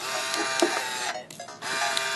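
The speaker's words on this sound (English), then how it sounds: "Now it's printing the rest of the frame." A Game Boy Printer prints a picture with a close, buzzing mechanical whir and feed clicks, briefly dropping out mid-way before the whirring resumes.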